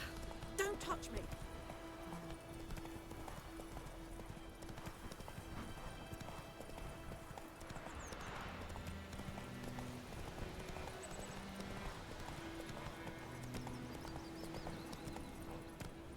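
Roach, the horse in the video game The Witcher 3, gallops with a steady, rapid clip-clop of hooves and an occasional neigh, continuous and close, with game voices heard at times.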